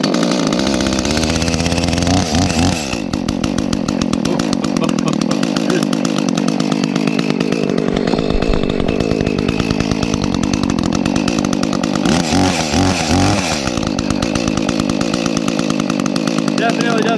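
A small chainsaw from a big-versus-small comparison of McCulloch, Stihl, ECHO and Husqvarna saws runs steadily right after an easy pull start, its loud, buzzy engine droning close by and not yet warmed up, with a brief lower surge partway through.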